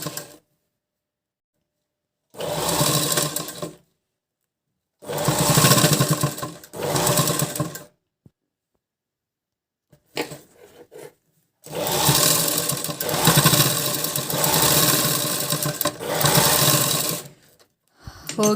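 A sewing machine stitches the neck of a blouse in several separate runs, each a close, steady whir of rapid needle strokes broken by short pauses, with one brief faint burst in between and no talk.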